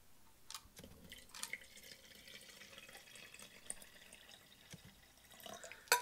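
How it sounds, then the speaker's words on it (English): Water trickles and drips into a StylPro Expert makeup brush cleaner, a quiet, steady running sound with a few sharper drips and splashes, alone and fairly close. "I'm gonna add some water to it."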